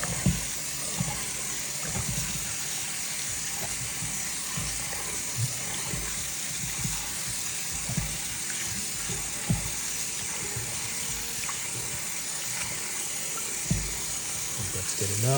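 Tap water runs steadily into a blender to rinse it, a constant close rushing splash with small clunks of the jar being moved, while a voice talks faintly underneath.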